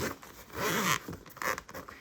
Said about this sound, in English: So go ahead and open your zippers up all the way.